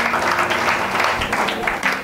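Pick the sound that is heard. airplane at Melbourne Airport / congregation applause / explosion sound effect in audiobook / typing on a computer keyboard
congregation applause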